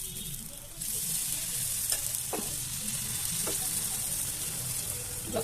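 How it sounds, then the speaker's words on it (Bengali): Plain oil being stirred in a hot pan gives a continuous loud hiss, with a few light spoon taps and scrapes rising over the steady frying noise. "তাই আমি এমনি তেল দিয়ে নাড়িয়ে নিচ্ছি"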